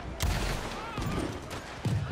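Gunfire in a Red Dead Redemption 2 Online shootout, a few sharp separate shots spaced apart at moderate loudness, mixed with other game sounds.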